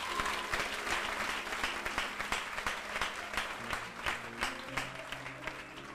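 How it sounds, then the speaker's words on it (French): Church congregation applauding together, a dense sustained clapping that fills the space throughout with no talk over it. "Est-ce que vous applaudissez Jésus"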